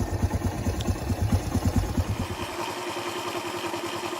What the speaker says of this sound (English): The Honda XL 250.